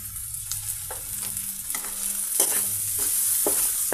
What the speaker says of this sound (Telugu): అల్లం చిన్నులపాయల పేస్ట్, ఉప్పు, పసుపు, కారం, పెద్దల్లిపాయ పీసెస్, టమాటా పీసెస్, పచ్చిమిర్చి పీసెస్ అన్నీ ఈ విధంగా చక్కగా ఆయిల్తో ఫ్రై అయిపోయాయండి.